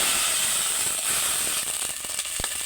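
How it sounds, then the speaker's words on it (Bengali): Water poured into hot frying spice paste for a fish curry, giving a loud, dense hiss of steam and sizzle that stays close and constant, with a few clicks near the end. "এখানে আমি পানি দিয়ে দিচ্ছিলাম"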